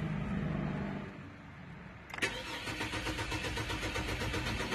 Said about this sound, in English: So if I try to start the vehicle,